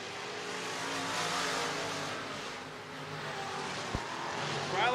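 Dirt track race cars at Salina Speedway in Kansas roar down the backstretch in a steady, fairly distant engine drone that swells and fades, with a sharp knock partway through and a louder pass closing it out.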